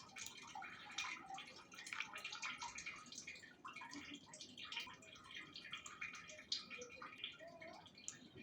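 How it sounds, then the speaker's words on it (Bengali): Water drips and trickles from freshly washed sago pearls draining in a kitchen, with a steady soft patter of droplets throughout, faint and close. "ধুয়ে আমি পানি ঝরিয়ে নিলাম।"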